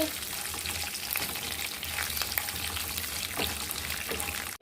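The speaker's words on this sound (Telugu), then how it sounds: "పోపు దినుసులు అవి చాలా చక్కగా ఫ్రై చేసుకోవాలి" Tempering spices crackle and sizzle in hot peanut oil for tamarind-leaf pulihora, a dense continuous frying hiss with small pops and occasional stirring scrapes, close and steady, with no voices.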